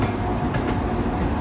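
An Indian passenger train, the Golconda Express between Warangal and Kazipet in a train simulator game, rolls along with a steady rumbling run and rhythmic clickety-clack of wheels over rail joints.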